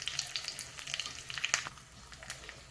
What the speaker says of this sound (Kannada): ಈಗ ಚಟ್ಪಟ್ ಸಿಡಿತಾ ಇದೆಯಲ್ಲ.